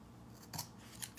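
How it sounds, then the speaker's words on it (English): Scissors making a quick close snip through paper while crafting a Dollar Tree napkin sign, with a second faint cut just after, in a quiet room. "Let me cut that right there."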